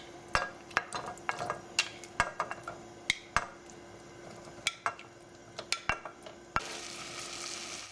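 Chopped pieces drop into a frying pan for tamale soup and are stirred. The sharp scrapes and clinks of a utensil come at an irregular pace over a soft sizzle, which grows louder and fuller near the end.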